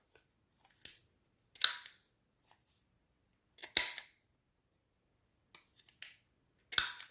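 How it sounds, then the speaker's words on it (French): Scissors snip the rounded corners of a small paper card for a spring-themed handmade card, five or six short crisp cuts spaced irregularly and close up, with silence between them. "On va couper les arrondis aussi du petit."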